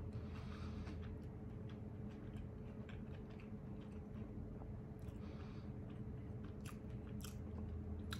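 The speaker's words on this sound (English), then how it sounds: "let's get into this taco" Someone bites into and chews a jackfruit taco up close, with soft crunching and wet mastication sounds continuing steadily at low level.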